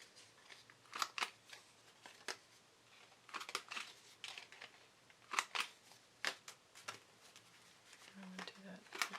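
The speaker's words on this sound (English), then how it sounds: "So you could use your scissors, or if you have a chomper, you could use your chomper." Paper corners being rounded for a photo journal mini album with scissors or a corner punch, a series of short crisp snips and crunches in irregular bursts, fairly close and quiet.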